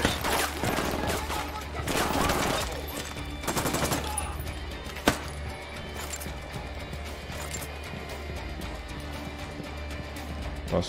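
Video game gunfire during a shootout with cartel members: rapid, loud volleys in the first few seconds, then one sharp shot, followed by a quieter rumbling lull.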